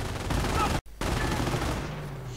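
An MG42 machine gun fires in a World War II strategy game, a dense, continuous burst of rapid gunfire with one brief cut of silence near the start, heard alongside other battle noise.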